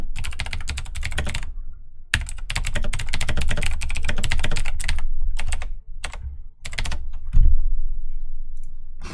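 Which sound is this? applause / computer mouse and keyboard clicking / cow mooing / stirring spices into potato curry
computer mouse and keyboard clicking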